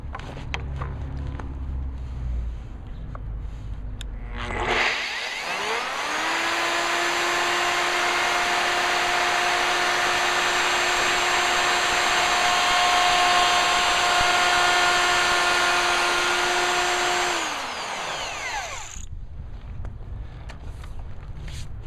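A wood router cuts a board for a planer feed table, a loud, steady, high-pitched whine that spins up, holds for about twelve seconds and winds down, close by and with no talking.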